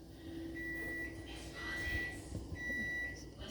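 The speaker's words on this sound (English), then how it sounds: "Sorry, my timer." A kitchen timer beeps while Louisiana gumbo cooks, giving thin electronic tones in repeated bursts, faint against low kitchen background noise.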